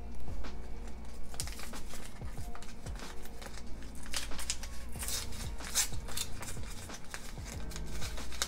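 Scissors snip and rustle through a Rituals chamomile herbal tea bag, giving close, quiet, irregular cuts and crinkles of paper, with loose tea shifting inside.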